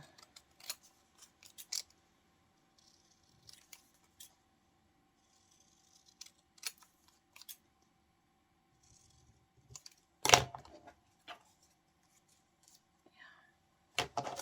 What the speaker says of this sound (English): I think I'm going to cut this down too.